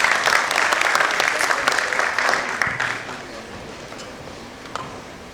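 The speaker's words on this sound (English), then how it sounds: "Use your round of applause." Audience applause at a banking and financial services panel session, a dense burst of clapping that is loud at first and then gradually thins and fades over about five seconds.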